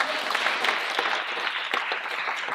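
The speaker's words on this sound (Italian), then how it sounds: "Un applauso, grazie." An audience at a theatre festival claps in a continuous, even burst that stays fairly loud and close. No one talks over the applause.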